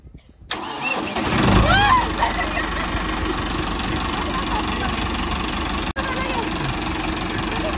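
A tractor engine cranks and catches after a brief pause, revving up, then settles into a steady, close idle that continues to the end, with talk in the background.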